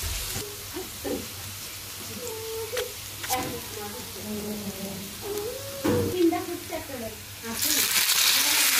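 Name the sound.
garlic and onion frying in mustard and soybean oil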